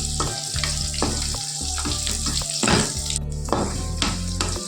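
Green chillies sautéing in a pan, a bright continuous sizzle with frequent scraping and tapping of a stirring spoon, close and lively, over a low steady hum.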